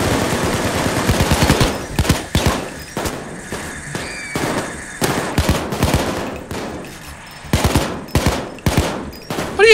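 Guards firing guns in the video game Payday 2, with sharp bursts of automatic fire and single shots coming in irregular clusters, loud and close, separated by brief pauses.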